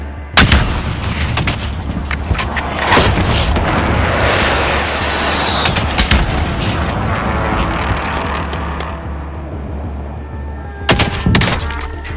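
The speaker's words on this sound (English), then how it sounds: "precision airstrike incoming." Precision airstrike explosions in the Call of Duty Warzone video game, a loud rolling series of heavy blasts and rumbling booms, easing off and then returning in a final burst of sharp impacts near the end.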